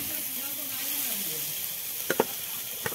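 Fish fries in a lightly fried spice masala in a pan, a soft steady sizzle with a faint low murmur early on, then two quick scraping clicks and one more near the end, close and fairly quiet.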